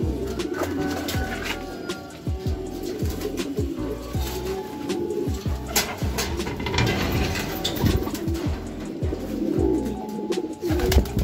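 Racing pigeons coo repeatedly at a loft after arriving from a long-distance derby race, soft rhythmic coos with occasional wing flaps and chirps, close and steady throughout with no talk.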